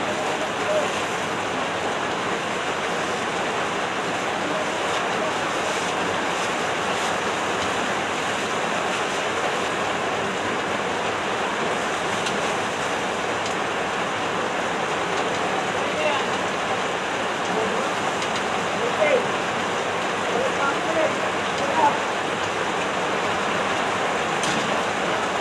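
Heavy rain from Typhoon Kristine pours steadily and densely, a constant loud wash of water with wind noise throughout, sounding like rain hammering surfaces with no break.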